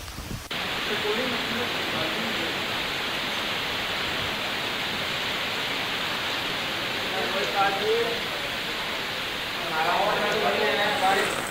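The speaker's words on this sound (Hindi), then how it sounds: "सीकर जिले में झमाझम बारिश हुई" Heavy monsoon rain pours steadily in Churu, Rajasthan, a dense continuous hiss of downpour that starts abruptly and stays loud throughout, with a faint voice near the end.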